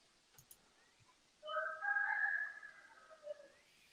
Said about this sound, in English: I'm just hearing, is that cockerels in the background? Yeah, Rooster.